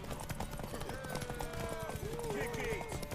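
Horse hooves galloping in the video game The Witcher 3, a steady rapid clip-clop heard under loud game voices calling out.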